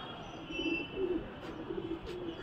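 Pigeons cooing softly at a rooftop pigeon-flying spot, several low murmuring coos in a gentle repeated rhythm against quiet outdoor background, fairly faint and with no talk over them.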